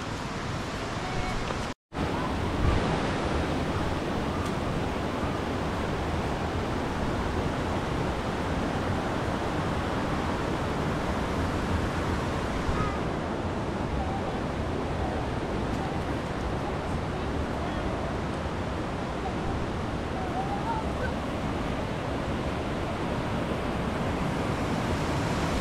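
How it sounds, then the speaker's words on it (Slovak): Mountain streams rush and merge near Šútovský waterfall, a steady broadband roar of flowing water that holds constant throughout with no breaks. "Sa spájajú dva potoky do jedného."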